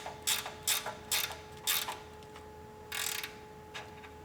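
Ratchet clicking in short bursts while tightening transmission cooler line fittings, reused from an old radiator, on a Fox body Mustang GT; several quick ratcheting runs with pauses between, close up, with a steady faint tone beneath.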